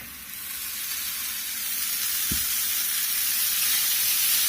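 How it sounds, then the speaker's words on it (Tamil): Sugar sizzles and fries in a pan while it melts for apple and coconut barfi, a steady close hiss that builds slightly louder over time, with one brief low knock partway through. "சக்கரை நல்லா மெல்ட் ஆகுற வரைக்கும் நல்லா ஃப்ரை பண்ணிட்டே இருங்க."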